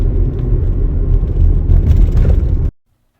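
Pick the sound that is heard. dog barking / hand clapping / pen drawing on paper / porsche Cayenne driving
porsche Cayenne driving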